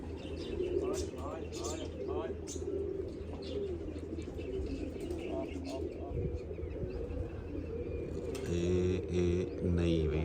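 Pigeons, including a female, coo repeatedly close by in a rooftop setting, with soft chirps and a brief flutter toward the end, and a person talks over much of it.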